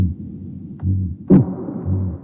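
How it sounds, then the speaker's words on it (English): A recorded longhorn sculpin fish call, a low throbbing hum in slow repeated pulses with a brief sharper knock midway, close and fairly loud against silence. "so that's the longhorn sculpin"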